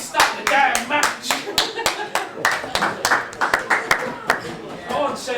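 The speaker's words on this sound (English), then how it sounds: "Some belated claps." A small darts-match audience claps belatedly in sharp, uneven hand claps that come thick and close, with a commentator talking over them.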